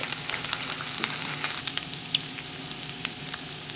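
Smoked bacon fries in a pan, giving a dense, continuous crackle of sizzling fat with busy pops throughout, close and steady.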